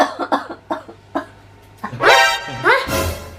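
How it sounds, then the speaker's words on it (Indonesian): Several short coughs come in quick bursts, followed by longer, louder voiced coughs that sound strained and exaggerated, close up and with no other sounds. "Ini berdua batuk mulu nih."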